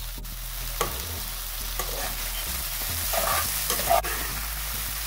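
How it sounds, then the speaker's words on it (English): Food sautéing gently in a pan over a low flame for Jamaican steamed fish, a soft steady sizzle with occasional light stirring scrapes, close and continuous. "You're gonna turn the fire on low, because you don't, you want them to saute, but you don't want them to burn at the same time."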